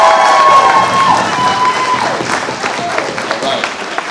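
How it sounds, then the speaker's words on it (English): An audience at a school poetry slam applauds children who have just performed, with clapping and cheering that includes young voices, starting loud and gradually thinning out. "So let's give Nani and Mommy another round of applause"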